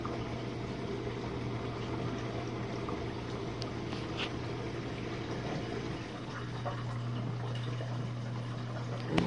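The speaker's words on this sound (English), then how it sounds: "you can definitely hear the water draining out" Steady rushing, gurgling water flows continuously alongside a low mechanical hum as a Jenn-Air dishwasher drains during a Quick Wash cycle, with no voices.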